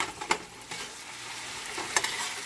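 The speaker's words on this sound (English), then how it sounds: "we're stirring it quickly so that that melting cheese doesn't scorch the bottom of the pan" Eggs with melting cheese frying in a pan, stirred quickly, giving soft scraping strokes over a steady low sizzle, fairly quiet and close.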